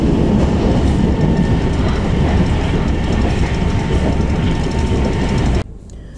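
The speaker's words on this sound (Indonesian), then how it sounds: "kereta lokal Garut Cibatuan keberangkatan dari Garut tujuan Padalarang" On board the local Garut–Cibatuan passenger train, a loud, steady rumble of wheels and carriage noise runs continuously with a faint rhythmic clatter, then drops away abruptly near the end.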